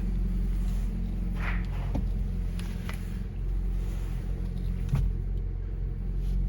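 A Honda Civic engine idles steadily after a clutch install, warming up with a constant low rumble close by, with a few faint clicks and knocks over the top.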